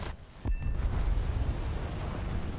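A shot-down plane explodes in a flight combat video game: a sudden heavy boom that settles into a sustained, loud rumbling roar lasting a couple of seconds.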